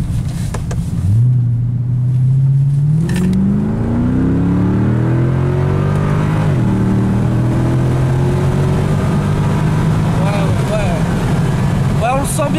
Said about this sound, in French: on va refaire une petite accélération pour en réécouter le bruit